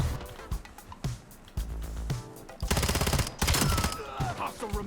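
Gunfire from a weapon in the video game Black Ops 7 comes in quick bursts and single shots, loud and close, with short gaps between volleys.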